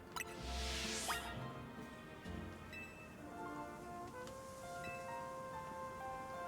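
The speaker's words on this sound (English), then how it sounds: "Rain is finally here!" Steady rain falling in the video game Pokemon Legends Z-A, a continuous soft patter with drips and splashes over game music tones and a low rumble near the start.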